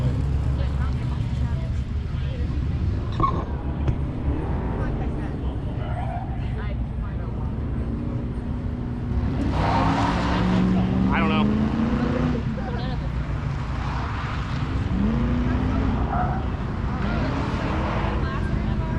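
A Mazda Miata race car in a grassroots motorsports $2K Challenge event, its engine droning steadily at speed with tire noise, continuous and fairly loud, while a commentator talks over it.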